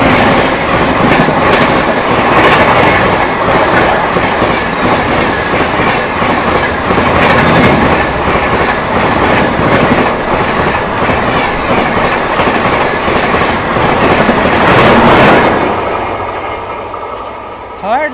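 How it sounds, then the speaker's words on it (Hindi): Howrah-Barmer express overtaking on the third line at Dadri, heard from aboard another train: loud continuous rumble and rhythmic clickety-clack of wheels for about fifteen seconds, then fading as it passes. "थर्ड लाइन से हावड़ा बाड़मेर ने हमें ओवरटेक कर दिया है दादरी पे"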